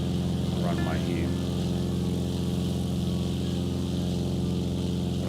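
A propeller airplane's engine drones steadily and loudly throughout in flight just after a formation takeoff from Stewarts Airport near Coffs Harbour, with a constant tonal hum and a brief voice over the drone.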